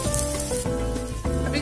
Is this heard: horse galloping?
no